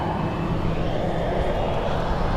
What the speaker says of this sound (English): Flight 3800 gets the green light to take off for Washington